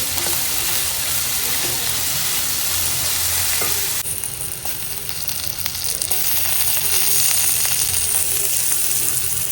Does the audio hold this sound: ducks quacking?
no